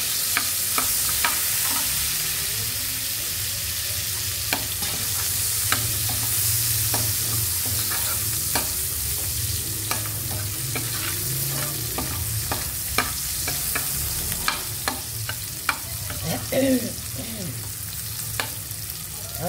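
Onion and garlic sautéing in a wok for coconut-milk tilapia, a loud continuous sizzle and crackle with repeated metallic scrapes and taps of a spatula stirring throughout, no voices.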